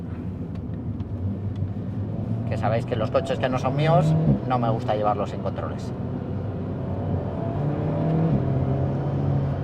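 A 2023 Alpine A110 R's engine drones steadily while driving, a low rumble running throughout under someone speaking Spanish in the cabin.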